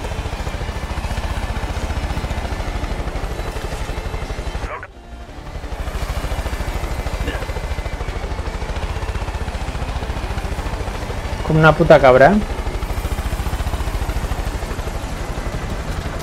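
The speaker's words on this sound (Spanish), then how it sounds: "Me está atacando un puto helicóptero" A helicopter attacks in the video game Far Cry 5, giving a continuous, loud, droning rotor and engine rumble with a brief dropout and some sharp game effects, while someone speaks briefly.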